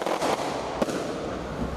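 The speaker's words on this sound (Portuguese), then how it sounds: "Fogos de artifício anunciavam a entrada dos agentes na Cidade de Deus." Fireworks set off in the Cidade de Deus neighbourhood of Rio crackle and pop in a few sharp bursts from some distance, over a steady background noise.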